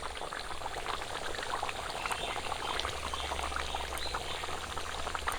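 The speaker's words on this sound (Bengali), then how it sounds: "মাংসটা কষানো হয়ে গেছে অল্প করে জল দিয়ে দিচ্ছি" Water is poured into chicken curry being cooked with lemon leaves after the meat has been browned, giving a steady close pour with bubbling underneath that runs unbroken for several seconds with no talking.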